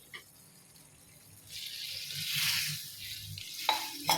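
Low bubbling and sizzling from a pan of Bombay chutney thickened with gram flour, swelling louder in the middle, with a faint clink near the end; no talking.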